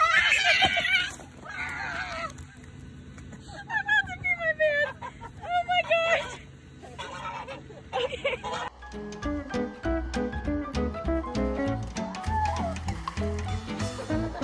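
Loud honking and agitated squawking from a goose close by as it attacks, with frantic flapping and commotion, followed by excited shouting voices.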